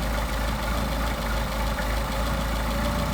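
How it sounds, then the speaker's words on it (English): An engine with a Solex carburetor idles steadily, loud and close, with a low, even pulsing throb and no voices over it while the idle mixture is being adjusted. "So we get our best idle."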